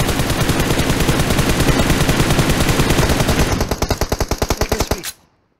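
Rapid automatic gunfire in the battle royale game PUBG, a dense loud stream of shots that thins into slower separate bursts before stopping abruptly near the end.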